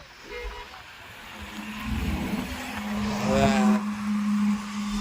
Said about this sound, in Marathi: गाड्या जातात